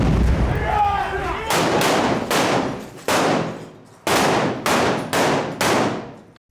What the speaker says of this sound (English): Under the cover of machine guns and grenade launchers, the assault group enters the building.